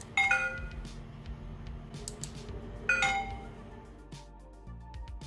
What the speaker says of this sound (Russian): Но вот звук при втыкании SD-карты вновь внушил надежду.